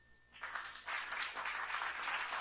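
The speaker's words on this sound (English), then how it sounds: "And then you've got an applause button." A canned applause effect plays from a MaonoCaster Lite mixer button, starting abruptly as a dense wash of clapping that swells after a moment and holds steady, moderately loud.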